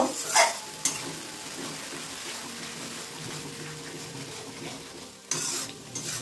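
Turmeric-laced spice paste for aloo dum frying and being stirred in a pan, a steady close sizzle with scraping stirs near the start and end, no voices.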